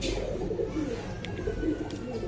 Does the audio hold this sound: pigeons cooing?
yes